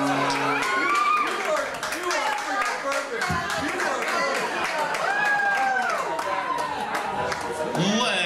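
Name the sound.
audience applause after a karaoke performance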